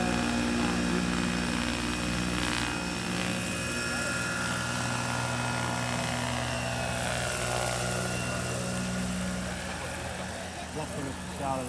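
A 1:11 scale RC model of a Boeing Chinook HC4 RAF helicopter flies with a steady, loud whining rotor and motor drone, with faint voices in the background.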